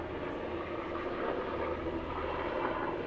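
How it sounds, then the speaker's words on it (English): A low-flying military medical helicopter passes overhead, heard as a steady, broad engine and rotor roar that stays fairly loud and constant throughout, with no talking. "it's a military medical chopper"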